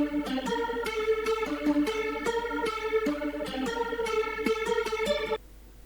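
Two synth layers detuned about 20 cents up and down and panned hard left and right play a bright, rhythmic chord-and-melody pattern with a slight chorus-like wobble, steady and prominent until it cuts off near the end.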